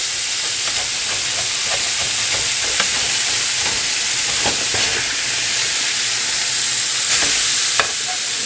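Burgers sizzle steadily on a hot griddle for a ham and cheeseburger bagel sandwich. A loud, continuous frying hiss runs throughout, with a few scrapes and taps from a spatula.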